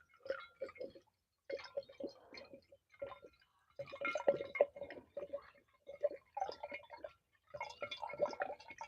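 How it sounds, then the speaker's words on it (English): Wine pours from a bottle into a glass in a series of gurgling, glugging bursts with short pauses, close and fairly quiet, with no one talking. "the sound of that pour"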